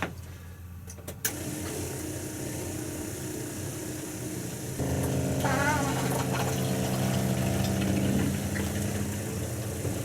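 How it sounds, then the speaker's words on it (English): An RV water pump switches on to pressurize antifreeze through the plumbing, a steady mechanical hum and whir that grows louder partway through and then runs continuously, close by. "we'll turn on the pump and let it pressurize"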